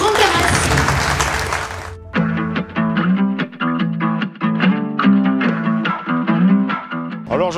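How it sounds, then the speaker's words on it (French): Crowd applause greets the winners of the 48 Heures Azimut sailing race at the Défi Azimut in Lorient, 2023, a loud wash of clapping lasting about two seconds before music takes over. "Tonnerre d'applaudissements pour les vainqueurs de ces 48 heures Azimut"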